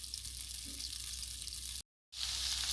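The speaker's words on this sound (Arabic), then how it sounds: "هحط الزبده والبصل والفلفل" Butter, onion and peppers frying in a pan, a steady loud hiss and crackle of sizzling that runs continuously close up, broken by one brief silent gap before resuming.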